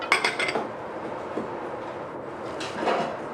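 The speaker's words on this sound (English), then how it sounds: "At this point, we want to mix in the rest of the ingredients." Pie crust ingredients mixed in a bowl, with clinking, scraping clatter of a utensil against the bowl in short bursts at the start and again near the end, moderately close.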